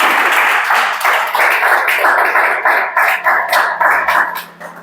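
Students in a class clap together for the speaker, a loud, dense burst of hand clapping that pulses in waves and tapers off toward the end.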